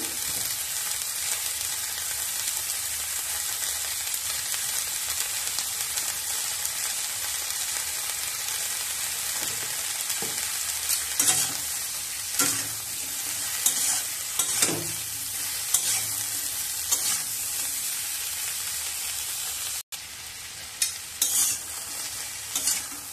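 Ash gourd stalks and potatoes frying in a pan, a steady close sizzle broken by repeated spatula stirring and scraping strokes, heavier toward the end, with no talking.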